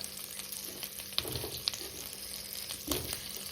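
Paneer cubes frying in melted butter in a pan give off a soft, steady sizzle, punctuated by a few light clicks from stirring, with no voices present.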